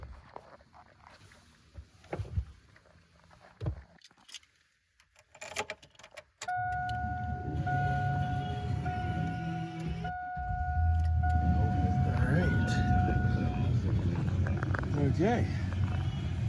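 A truck engine cranks and catches, then settles into a steady, loud idle that swells as it revs, following a stretch of quieter handling noises with people talking.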